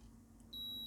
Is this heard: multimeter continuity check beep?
yes